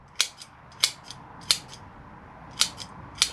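Scissors snipping the roots of a privet bonsai during repotting, five or six crisp close cuts spaced irregularly, each with a sharp click and a faint second snap, against quiet background.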